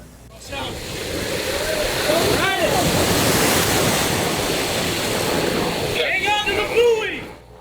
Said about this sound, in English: you can see how choppy that surf was just after midnight